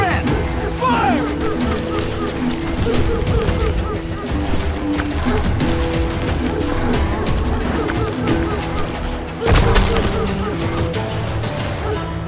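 Gunfire rattles through a gunfight in the western shooter Call of Juarez: Gunslinger, with rapid, repeated shots crackling under loud shouting voices and background game sound, followed by a sharp burst near the end.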